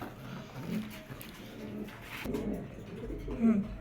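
Male racing pigeons coo in low, throaty repeated calls nearby, with a person talking over them and some rustling in the background.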